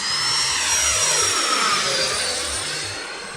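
RC plane flying overhead, a loud, steady whining motor and propeller roar that swells and then slowly fades as the aircraft passes.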